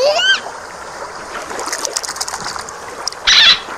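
A toy dolphin drops back into water with a short, bright splash near the end, after a faint chirp and soft trickling and rustling.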